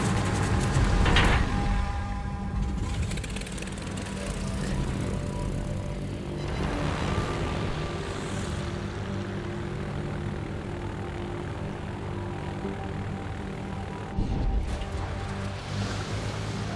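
Propeller engines of dive bomber aircraft in a naval battle video game featuring the aircraft carrier A. Parseval, a steady droning roar with a soft wash like surf underneath, holding level throughout.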